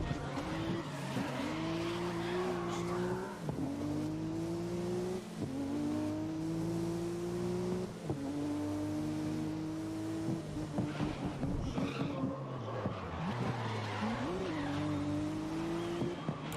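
A Nissan R32 GT-R race car in the racing game Grid 2019 revs in rising gear pulls with repeated upshifts and squealing tyres, its engine loud and close throughout.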